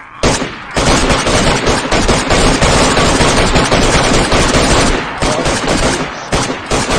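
Sustained automatic gunfire in the survival video game DayZ, loud and close, pouring out in a dense rapid burst for several seconds, briefly breaking off and then resuming in shorter volleys.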